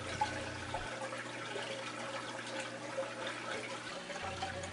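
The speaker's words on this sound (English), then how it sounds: "press the start button to turn the water pump on" Whirlpool washing machine drain pump running, a steady low motor hum with water trickling and gurgling through the drain, continuous and fairly close, no talk.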